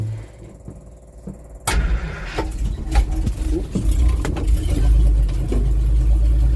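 A Simca Marmon 4x4's engine cranks in gear and catches at once, then settles into a steady, healthy idle with a low rumble, close by.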